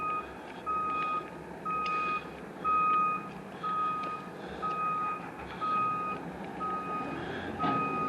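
A truck's reversing alarm at a construction site on Laurel Blvd gives steady, evenly spaced electronic beeps about once a second, over a constant rumble of engine and site noise.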